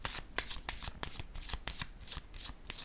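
A tarot card being laid down on a table among other cards: quick, close papery flicks and snaps in an uneven rapid series, like cards being handled and shuffled, fairly soft, with no talk.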